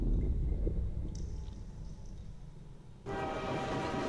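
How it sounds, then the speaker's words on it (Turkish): Train ambience in the video game Transmission Element 120, a loud steady low rumble throughout with a brighter rattling rush starting near the end, no talk. "Tren sesi."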